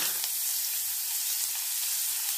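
Onion frying in hot oil with a bay leaf for papaya-carrot masoor dal, a dense, even, hissing sizzle that holds steady and fairly loud throughout, nearby with no voices.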